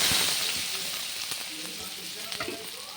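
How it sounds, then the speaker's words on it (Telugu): Paneer cubes frying in oil in a pan give a steady, close sizzle with scattered pops and a few scrapes or stirring knocks, and no voices are heard. "ఇదిగోండి ఇంకొక బాండీలు పెట్టి ఆయిల్ పోసి పన్నీర్ వేసుకున్నాను."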